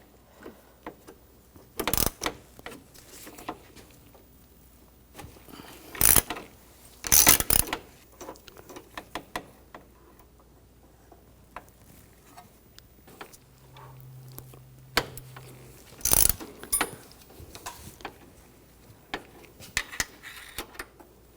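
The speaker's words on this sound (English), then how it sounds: "I'm going to use a 6mm Hex socket." A ratchet fitted with a 6mm hex socket clicks and clanks in scattered short bursts while loosening the AC line bolts on a 2006-2010 BMW 550i condenser. Between bursts there are quiet handling noises, with a brief low hum partway through.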